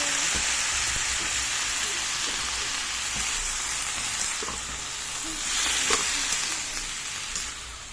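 Chopped tomatoes sautéing in a hot pan, a continuous close-up sizzle and crackle with soft scraping and stirring noises rising slightly toward the end.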